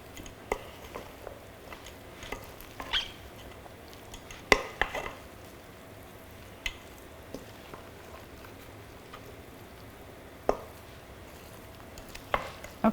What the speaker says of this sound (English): I'm going to coat these potatoes, but I really don't want to over stir them